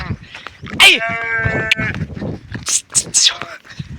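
Sheep resting under a tree bleat several times, a long wavering cry followed by shorter calls, close by, with people talking in the background.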